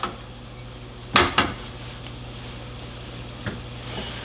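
Ground meat for sloppy joes cooking in a pan, a low steady sizzle broken by a couple of sharp spoon-against-pan clanks and a later softer scrape.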